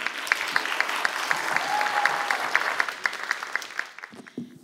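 An audience applauds after a talk at the Beyond Race 2024 event: a dense, crackling burst of many hands clapping that holds steady, then thins out and fades toward the end.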